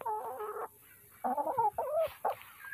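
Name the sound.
Lohmann Brown hens clucking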